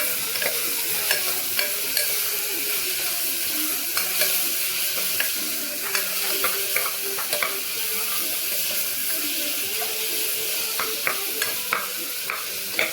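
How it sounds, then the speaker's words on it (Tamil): Tomatoes sautéing in a pan for tomato rice: a steady broadband sizzle runs throughout, broken by frequent scraping clicks of stirring, close and fairly loud, with no voices. "தக்காளியை போட்டுக்குவோம். தக்காளி நல்லா வதங்கணும்."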